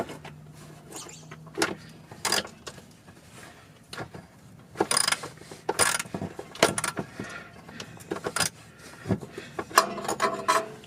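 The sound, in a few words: tightening bolts on BMW driveshaft support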